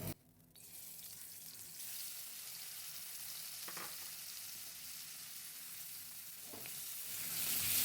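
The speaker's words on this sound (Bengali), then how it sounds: "এই চিংড়ি মাছের এটাকে আমি একটু হালকা করে ভেজে নিচ্ছি।" Prawns rubbed with turmeric and salt fry lightly in oil with a continuous close sizzle. A few brief stirring knocks come through, and the sizzle swells louder toward the end.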